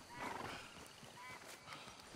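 A large horse in the video game Red Dead Redemption 2, a neigh with clip-clop hooves and a few soft game noises, quiet and close.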